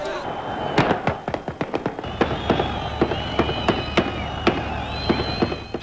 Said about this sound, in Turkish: Güvenlik güçleri ise Filistinleri durdurmak için havaya ateş açıyor.